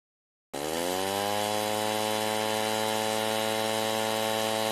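A farm water pump motor starts abruptly and then runs at a steady, loud, droning hum without pause, with no voices.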